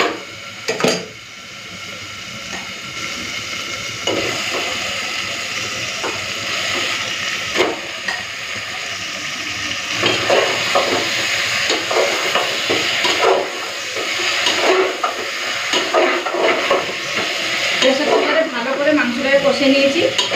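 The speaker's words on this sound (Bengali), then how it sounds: "এরপর দিয়ে দেবো মাংস" Chicken pieces sizzle and hiss in hot oil cooked down with turmeric and Kashmiri red chili powder, for a Bengali chicken curry, with steady frying noise and occasional spatula scrapes against the pot throughout.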